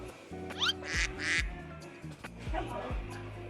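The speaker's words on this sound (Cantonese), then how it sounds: "呢度係鴨仔嘅世界" Ducks at a Richmond, Tasmania vineyard quack repeatedly in a loose chorus of nasal calls, close by, with a voice briefly audible among them.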